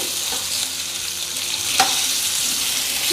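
Omelette ingredients sautéing in a pan, a bright continuous sizzle with faint stirring scrapes and one brief louder clink near the middle, close and steady without speech.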